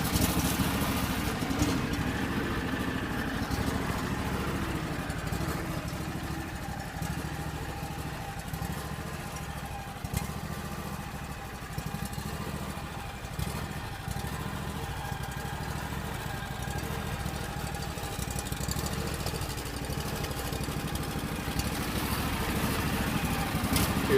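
A compact tractor engine idles steadily for over twenty seconds, a constant low mechanical drone with even loudness and no speech over it.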